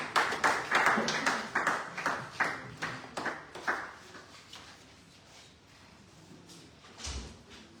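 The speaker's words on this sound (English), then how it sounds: "Please give her a round of applause again." An audience at a legislative internship reflection session claps in a round of applause, a run of sharp, close hand claps that thins out after a few seconds, with a faint voice afterward.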